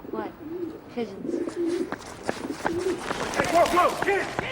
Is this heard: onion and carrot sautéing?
no